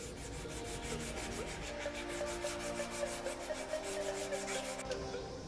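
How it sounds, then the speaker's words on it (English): A wooden knife handle hand-sanded with fine sandpaper after Dremel and belt sander work, a steady close rubbing scratch in repeated even strokes, soft and continuous with no talking. "we need to grind all that off with some fine sandpaper"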